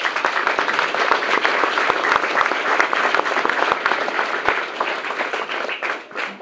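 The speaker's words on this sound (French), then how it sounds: "je vous demande de les applaudir" An audience at an exhibition event applauds schoolchildren from several local schools with dense, sustained clapping that fades slightly toward the end.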